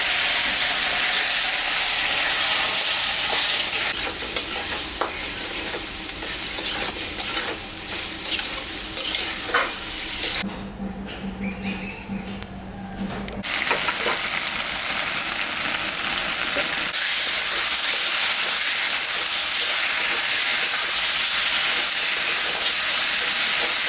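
A ground paste of ginger, dried chilli and cumin fries in a pan, with loud continuous sizzling and hissing and repeated stirring scrapes, a short quieter gap partway, no talking.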